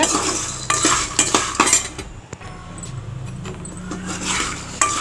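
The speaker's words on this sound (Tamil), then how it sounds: "இதில் நல்லா பொறுமையாக வறுத்தெடுங்க" Dried turkey berries are roasted and stirred in a pan, making close metallic clinks and scrapes of a spoon in quick bursts with a short quieter gap midway.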